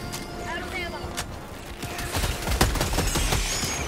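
Sentry turret in Helldivers 2 firing rapid bursts amid battle noise, dense crackling automatic fire growing louder toward the end, with a voice speaking over it.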